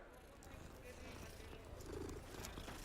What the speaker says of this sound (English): scratch the kitty.